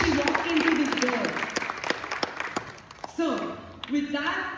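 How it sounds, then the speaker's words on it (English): An audience at a music academy event gives a round of applause for a newly arrived MC, a dense patter of clapping that a speaking voice rides over and then continues through. "can we give a big round of applause to Sanvi"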